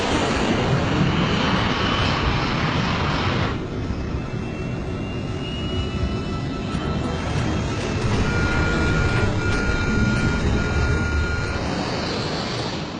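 An airplane taking off from a runway, its engines giving a continuous loud, broad roar that holds steady for about thirteen seconds, with a faint high whine riding over it and no voices.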